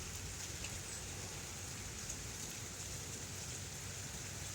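Steady rain falls on a rainy fall day, a constant soft hiss of drops on surfaces, even and moderately faint with no voices.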